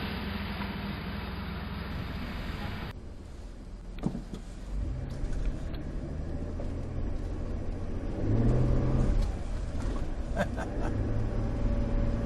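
Car driving on Highway 101 on a snowy Oregon coast road, a steady interior engine and road rumble that builds as it accelerates, following an earlier whirring hum and a brief knock.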